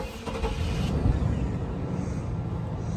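A 1999 Chevy Suburban C1500 engine runs at a steady idle right after restarting, a loud, close rumble that holds without interruption.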